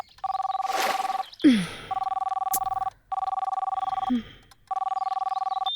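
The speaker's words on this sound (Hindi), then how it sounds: "तुम्हें किसी ने फोन किया है।" A telephone rings with an incoming call, its repeated electronic bell bursts sounding loud and close in a steady on-off pattern, broken by short gaps and a couple of brief thuds and rustles.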